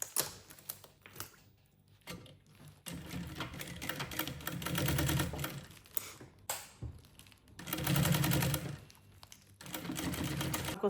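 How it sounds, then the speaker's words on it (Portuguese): A sewing machine stitches around the zipper on a lunchbox lid in loud bursts of rapid mechanical clatter with short pauses between them, close by. "agora a gente só vai passar uma costurinha,"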